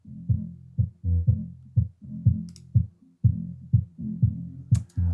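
Dance beat from a belly dancer style electronic track, played with the multi-band compression switched off: a steady pounding kick and bass pulse repeating about twice a second, with faint high clicks, loud and alone.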